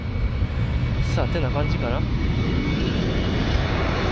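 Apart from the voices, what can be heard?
airplane engine noise near Itami airport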